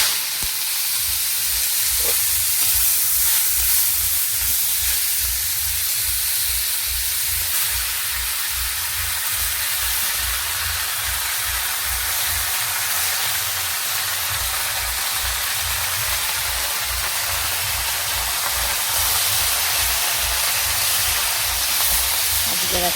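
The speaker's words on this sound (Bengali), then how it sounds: "তার জন্যই আজকেরা আমাদের 14 শাক ভাজা হচ্ছে" Fourteen kinds of leafy greens fry in hot oil with dried red chillies, giving a steady hiss and sizzle close by, with faint stirring knocks and a low rhythmic pulse running underneath.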